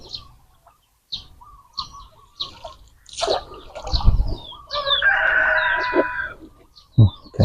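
A rooster crows nearby, a long harmonic call in the middle, with scattered soft clucks and chirps before and a sharp short burst near the end.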